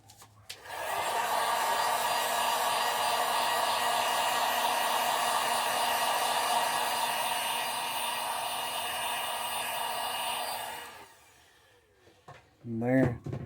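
A heat gun blows a loud, steady roar for about ten seconds while heat-setting paint on a crankbait lure, then cuts off, followed by brief handling clatter.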